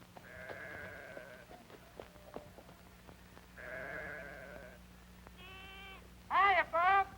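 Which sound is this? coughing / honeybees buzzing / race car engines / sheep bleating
sheep bleating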